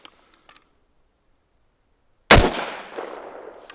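After a few faint clicks and near silence, one sharp, loud unsuppressed rifle shot of a supersonic round cracks out, followed by a short decaying echo and a mechanical clack as the bolt locks open.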